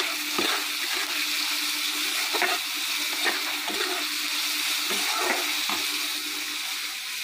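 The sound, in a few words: onions and green chilies frying on a pan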